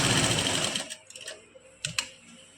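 A sewing machine stitching a shirt neckline, running in a fast, dense whir for just under a second, then stopping, followed by a few soft clicks and handling taps of the cloth.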